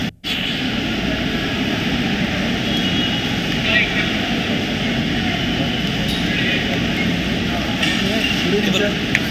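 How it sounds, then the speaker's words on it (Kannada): Vistara passenger jet arriving at Kempegowda airport in Bengaluru, a steady loud engine roar sustained throughout with little change. "ಸಂಜೆ 5:30 ವಿಸ್ತಾರ ವಿಮಾನದಲ್ಲಿ ಪ್ರತಾಪ್ ಸಿಂಹ ಎಂಟ್ರಿ ಕೊಡ್ತಾರೆ."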